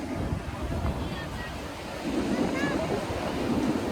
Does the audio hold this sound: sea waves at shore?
yes